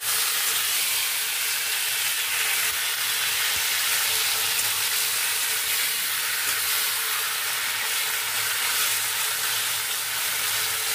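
Dark taro (kochu) greens, seasoned with salt and turmeric, fry in a pan with a continuous even sizzle and hiss that holds steady throughout, with no talking.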